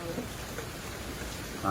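Steady rain falls throughout with a dense, even hiss and patter, and the sound grows slightly louder near the end.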